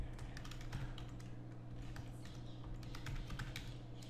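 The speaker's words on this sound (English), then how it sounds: "So we just type in the domain name and keywords." Someone types a domain name on a computer keyboard, producing quiet, rapid key clicks in uneven bursts over a low steady hum, close and faint, with no voices.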